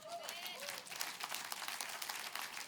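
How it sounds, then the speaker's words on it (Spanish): A church congregation claps during a Spanish-language sermon, fairly faint crowd applause with some quick individual claps, a voice briefly audible at the start. "Dele un aplauso fuerte al Señor."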